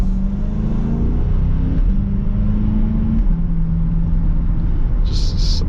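A Chevrolet Corvette engine hums steadily at low pitch while driving, rising slightly in revs, a continuous close rumble with road noise throughout.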